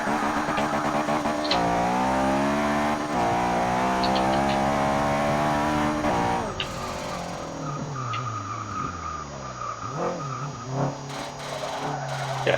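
A tuned van driven hard around a race track in Forza 6: a loud, rising engine drone climbs through the gears, then gives way to tyre squeal and skidding in a drift, with short revs between.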